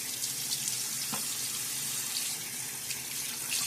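Water runs from a bathroom sink tap in a quick splash during a wet shave, a steady broadband hiss of flowing water filling the whole moment with no talking.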